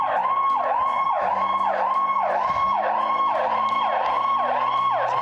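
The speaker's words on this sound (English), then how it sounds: "Fire truck." A fire truck's wailing siren rises and falls in steady repeated sweeps, loud and close, with a low engine rumble underneath as it goes by.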